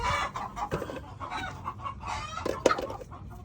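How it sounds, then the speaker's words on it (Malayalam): Several native country chickens on a Kerala poultry farm cluck nearby in short, uneven bursts, with a sharper squawk near the end and no people talking. "ഈ ചൂടിനെ പ്രതിരോധിക്കാൻ നാടൻ കോഴിയെ പറ്റുള്ളൂ"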